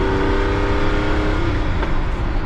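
Loud engine drone and road rumble from inside a veteran Sherman vehicle on ancient tires, a steady hum with a faint tonal whine fading out after a second or so.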